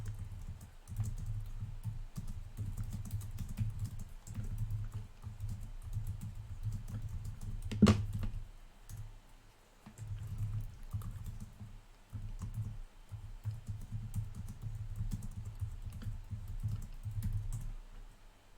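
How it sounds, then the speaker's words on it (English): Keys clatter on a computer keyboard in steady bursts of typing with short pauses, close and fairly quiet, broken by one sharp click or knock midway. "Oops. I'm going to type."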